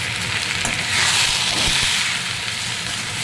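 Vegetable hakka noodles are stirred and tossed in an iron pan over strong frying, with a loud, dense sizzle and scraping swells that continue without a break.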